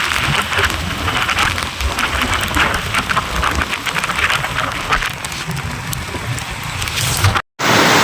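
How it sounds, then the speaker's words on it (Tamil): Heavy rain pours down steadily in a loud, dense hiss, one brief dropout near the end. "ஆ சரியான மழை பிடிச்சிருச்சுங்க"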